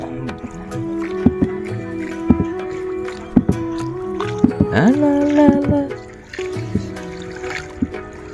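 A rowboat turning on the water at Ghupshir Bil wetland in Naogaon, Bangladesh, with soft paddle splashes and drips under voices and tonal background sounds.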